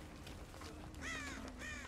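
Two crows caw in the horror video game Dead by Daylight, harsh calls coming close together and standing out faintly over a low background of game ambience.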